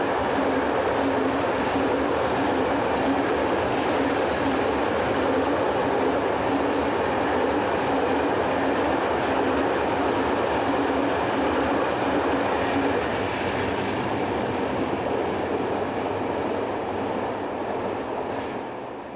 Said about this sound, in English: French tri-voltage electric number 36017 is seen with a set of coal empties heading west